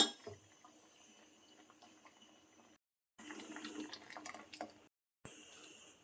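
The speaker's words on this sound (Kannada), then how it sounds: "ಜಾರ್ ತೊಳೆದಿರೋ ನೀರು ಹಾಕ್ಕೊಳ್ತೀನಿ." Water used to rinse a grinder jar is poured into a simmering cabbage buttermilk curry, faint splashing and trickling in short bursts separated by brief silences, with a light clink of the jar.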